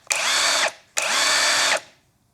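A cheap cordless impact gun runs in two short bursts of high whirring, each about half a second long with a clear gap between them, close and fairly loud, with no speech.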